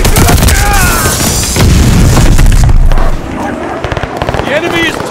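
A grenade blast in Call of Duty Vanguard on PS5 lands as a loud, heavy boom with a long rumbling tail, set amid chaotic gunfire and battle noise while voices shout over the action.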